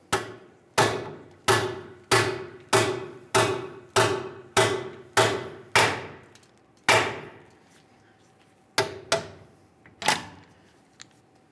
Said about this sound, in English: We'll use our hammer and start driving it in.